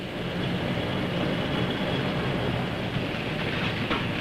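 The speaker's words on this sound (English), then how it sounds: "trains from the Sheffield Freight Terminal and elsewhere converge on Tinsley Marshalling Yard" Freight trains rumble along the railway near Sheffield, a steady close roar of rolling wagons with faint rhythmic clatter throughout.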